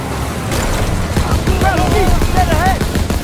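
Sustained machine gun fire during a vehicle chase in Call of Duty WW2, steady rattling bursts under shouting voices and battle noise throughout.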